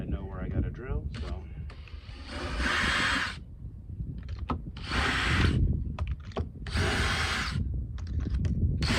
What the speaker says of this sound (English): do a quick little, just a little bit of drill